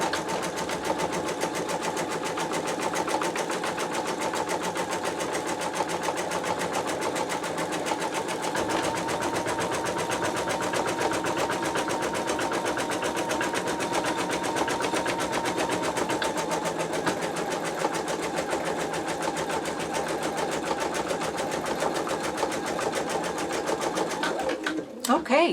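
An embroidery machine stitches a simple design held in a magnetic hoop, a steady rapid mechanical chatter that runs unbroken and close for the whole stretch, then stops abruptly with a few clicks at the end.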